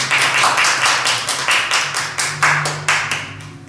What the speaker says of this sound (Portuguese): Vamos aplaudir o Senhor, que merece toda a honra e toda a glória.